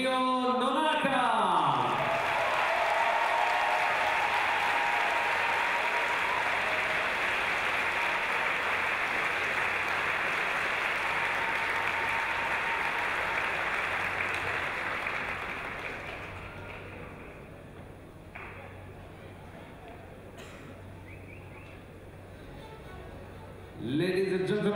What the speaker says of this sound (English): I would like a big applause for Mio Nonaka.